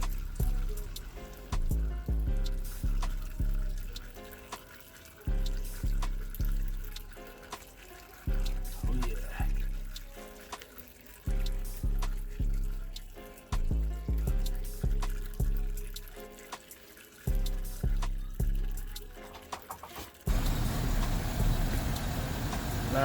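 Old engine oil drains from a 330,000-mile GMC Yukon Denali XL into a pan, a steady splashing pour broken by repeated surging pulses, ending in a rougher, louder rush.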